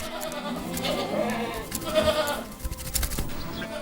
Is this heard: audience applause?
no